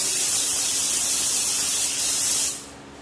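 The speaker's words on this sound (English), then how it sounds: "we're going to start spraying" A paint spray gun hisses in one continuous, loud burst for about two and a half seconds, then cuts off, spraying a first coat on a 1972 Camaro.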